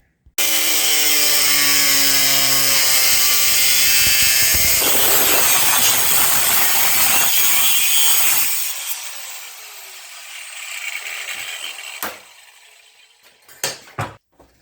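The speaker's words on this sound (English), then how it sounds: "Gonna take the angle grinder and slasher do right there." Angle grinder cutting 16 gauge sheet metal during rust repair on a Jeep CJ5: a loud, high-pitched continuous whine for about eight seconds, then it winds down and fades, followed by a few sharp clanks and taps.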